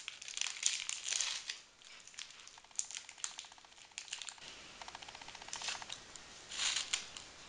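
A bag of langue de bœuf candy is opened close by, with crinkling and rustling of plastic packaging in irregular bursts, some quick ticking scratches between them, and no talking.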